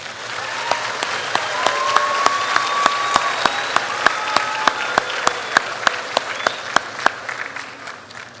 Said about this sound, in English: Please join me in applauding all of these students for their accomplishments.